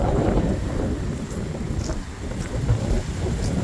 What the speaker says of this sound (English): Hopefully you can hear me with this wind here.